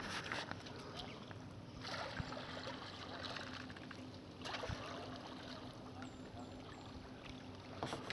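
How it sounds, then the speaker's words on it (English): Kayaks paddling out into the ocean, with soft splashing and water movement over a steady background of surf and wind, faint and continuous with no clear voices. "They're off paddling into the ocean."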